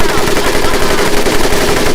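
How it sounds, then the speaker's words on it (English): An M1919A4 .30 caliber machine gun in Medal of Honor fires a loud, continuous rapid rattle for two seconds, close and unbroken. "M1919A430 caliber machine gun"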